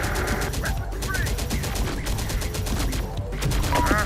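Gunfire crackles through a battle in the video game Terminator: Dark Fate - Defiance, sustained automatic bursts and rattling volleys layered with in-game radio chatter throughout.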